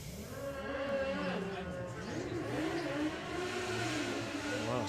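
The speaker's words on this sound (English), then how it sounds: "slight misshift from the kit car there" At a drag race launch, a kit car's engine revs and climbs through gears, its pitch rising and dipping repeatedly, loud and fairly close, with a commentator talking over it.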